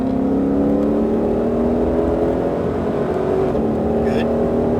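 A Ford Mustang Shelby GT500 accelerates on a race track at Exotics Racing in Las Vegas, its engine note climbing steadily in a loud, close, sustained roar heard from inside the car.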